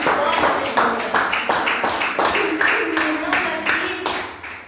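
A church congregation claps hands in steady rhythmic unison during lively Portuguese-language worship, sharp repeated claps close and loud with voices singing or speaking underneath.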